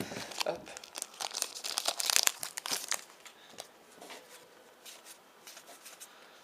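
A trading card booster pack is torn and crinkled open by hand, with a burst of crisp foil ripping and crumpling up close, then softer rustles as the wrapper settles, and a voice talks briefly.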